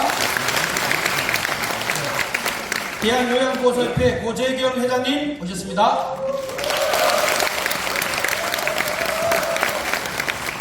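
Audience applause for guests being introduced at a National Assembly policy forum on long-term care, steady clapping at the start and again later, with an announcer speaking over a stretch in the middle.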